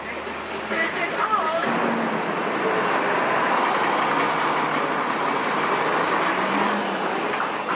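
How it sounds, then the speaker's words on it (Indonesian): Steady road traffic with buses and other vehicles passing a bus stop on a rainy day, a continuous loud wash of engine and tyre noise with no clear breaks throughout. "Lagi di halte, lagi nunggu bus. Lagi hujan."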